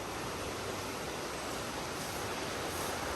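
Broad, steady rushing of river water flowing at a flood control site on the Hinaguan River, a loud, constant wash of noise with no breaks and no voices.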